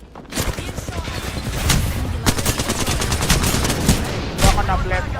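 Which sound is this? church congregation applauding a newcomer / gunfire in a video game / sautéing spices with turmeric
gunfire in a video game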